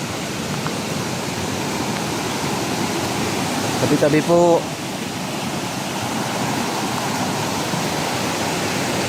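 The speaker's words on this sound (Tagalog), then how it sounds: "Parang ang lakas ng tubig." A strong, clear river rushes loudly and steadily during a typhoon in Mindoro, a close, unbroken roar. A short spoken phrase rises over it midway through.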